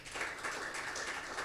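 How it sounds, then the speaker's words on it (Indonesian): A church congregation at a Sunday worship service breaks into applause, a brief, dense patter of clapping throughout. "Tepuk tangan untuk Tuhan."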